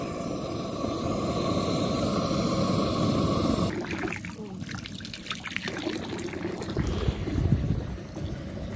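Water rushes steadily through a pool heater hose as the pool water is heated, a broad close hiss that shifts to a rougher, uneven flow partway through.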